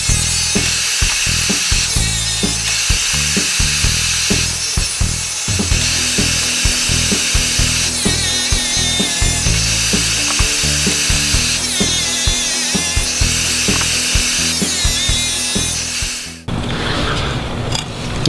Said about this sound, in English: the Husqvarna, as we could see, did a pretty nice clean job of cutting the white tile